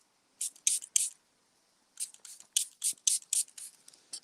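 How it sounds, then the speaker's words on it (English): Spray bottle misting water onto paint in a mixed-media art session, a quick series of short hissing bursts in two clusters with a pause between, close and fairly quiet, no talking. "We spray a little bit water like that."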